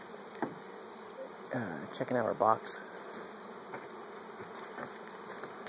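Steady buzzing of many bees fills the air, with individual insects droning past nearby while a person speaks briefly.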